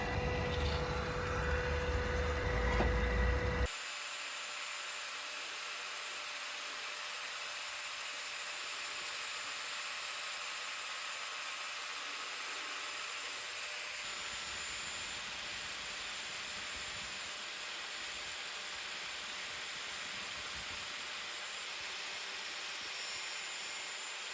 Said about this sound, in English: What I'm going to do today is use that angle grinder behind to just give it a bit of a dressing. It'll be noisy.